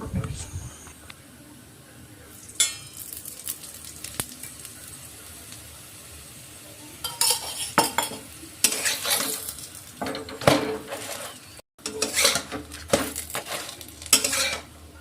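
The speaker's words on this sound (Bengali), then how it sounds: "এইভাবে উল্টে পাল্টে লাল করে ভেজে নেব" Aloo paratha, a flatbread stuffed with potato, frying in a pan in village style and being flipped, with a steady sizzle and bursts of spatula scraping and metal clatter, while people talk over it.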